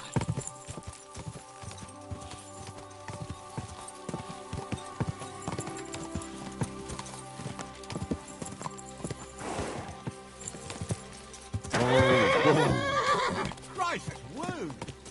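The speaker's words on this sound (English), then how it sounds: "Watch out for that horse." A horse in Kingdom Come Deliverance 2 clip-clops along with rhythmic hooves over a cluttered game soundscape, then gives a loud, close neigh near the end; someone talks over parts of it.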